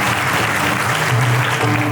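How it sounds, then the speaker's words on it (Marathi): Crowd of villagers clapping at a rural bhajan gathering, steady dense applause close by and fairly loud throughout, with no talk over it. "गावकरी मंडळी टाळ्या वाजवल्या बरं तुमच्यासाठी"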